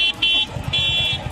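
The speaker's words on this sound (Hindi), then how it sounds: "गाड़ियों के हॉर्न की आवाज को सुनिए" Vehicle horns honk in crowded traffic packed with scooters, bikes and cars, a few short nasal blasts and one longer toot over a rumbling road background.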